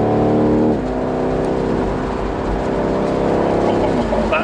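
A BMW M850i Convertible, 530bhp, pulls hard on an open road, its exhaust rising in a loud, continuous engine note with a gear change early on, and a voice talks over it.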